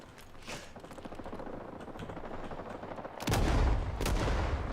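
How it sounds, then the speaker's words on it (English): A grenade explodes in the Vietnam-era shooter Rising Storm 2: Vietnam, a sudden loud broadband blast about two-thirds through that swells and lingers, following several seconds of steady gunfire and battle din. "Let's throw a grenade, just to be sure."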